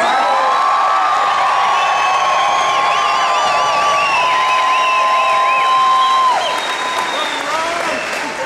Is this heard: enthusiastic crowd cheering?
yes